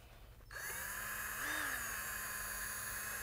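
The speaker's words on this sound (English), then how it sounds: "we're gonna go ahead and use a variable speed drill" A variable speed power drill starts up after a brief quiet moment and whirs steadily at low to mid speed while mixing epoxy coating for a garage floor, with a slight pitch rise partway before settling into a constant close hum.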